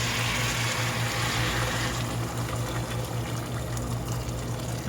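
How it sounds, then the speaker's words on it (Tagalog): Water runs and splashes steadily into a cooking pot of chicken macaroni, a continuous rushing pour heard up close for a few seconds. "So lagyan natin siya ng tubig."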